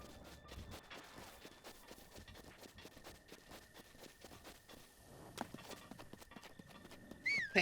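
Several horses galloping in the video game Breath of the Wild, a steady rapid clatter of hooves at moderate distance that thins out as the herd runs off, with a brief whinny near the end.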